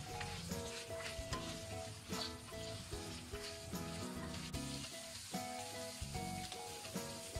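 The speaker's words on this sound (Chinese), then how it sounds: "锅中留底油，下入青椒段，先翻炒几下，炒匀。" Green pepper pieces stir-frying in leftover oil in a wok give off a steady, faint sizzle, with repeated scraping and clinking of a spatula against the pan.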